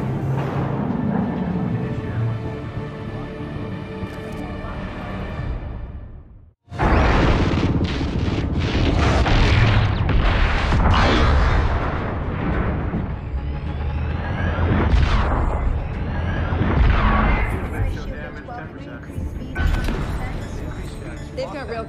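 Railgun fire and explosions in a sci-fi space battle aboard a warship. A dense, loud barrage of booms, whooshes and rumbling impacts follows a brief cutoff and continues under voices.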